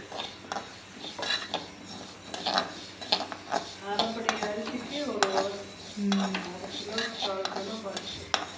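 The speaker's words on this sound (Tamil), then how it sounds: "அடுத்தது பாசிப்பருப்பு வறுத்துக்கலாம்." Moong dal being dry roasted in a metal pan, with repeated close scraping and rattling of grains and spoon against the pan in an uneven rhythm, and a voice partly audible underneath.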